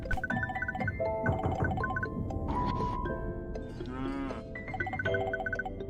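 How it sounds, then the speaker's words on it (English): Heartbound video game sound of a dairy cow being milked: repeated mooing calls mixed with rhythmic squirting and sloshing noises, all fairly close and loud, set against melodic game music tones. "Sounds like a dairy cow being milked."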